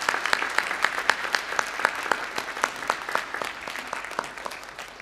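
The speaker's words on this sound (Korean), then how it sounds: "우리 박수로 환영하도록 하겠습니다" A church congregation at a Sunday worship service claps to welcome first-time visitors, a moderate, fairly even patter of many hands with distinct individual claps standing out, slowly softening.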